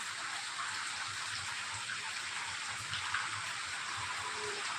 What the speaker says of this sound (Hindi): बारिश भी होने लगी बातें करते करते।